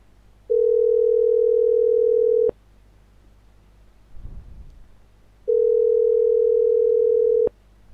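Telephone tone heard during a call: two long, steady electronic beeps of about two seconds each, separated by a quiet gap with a brief rustle of handling noise, clear and fairly loud with no talking.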